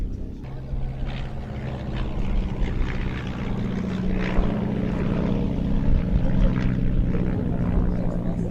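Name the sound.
Moth Major vintage biplane flying at an air display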